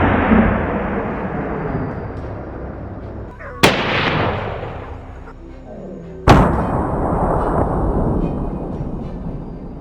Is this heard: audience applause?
no